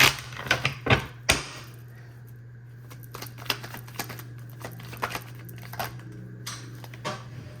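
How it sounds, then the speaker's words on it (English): Soft shuffling of a tarot deck: a few sharp riffle bursts at the start, then scattered light card taps and slides over a steady low hum. "Let me shuffle again."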